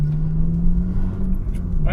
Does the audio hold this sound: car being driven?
yes